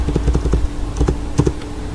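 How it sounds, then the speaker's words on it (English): Fingers type on a computer keyboard in short bursts of close, light key taps, a few quick clusters separated by brief gaps over a low steady hum. "I am typing"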